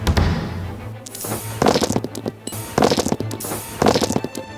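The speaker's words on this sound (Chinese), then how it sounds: "烟花来喽！" Fireworks effect in the Genshin Impact card game Genius Invokation TCG, a video game, with three or four bursts of crackling, popping blasts over a low electronic hum, each burst loud and sharp before fading.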